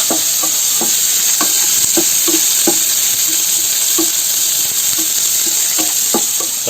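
Chopped onion and curry leaves hit hot oil in a pan, giving a steady loud sizzle with repeated stirring scrapes and clinks of a spoon against the pan throughout.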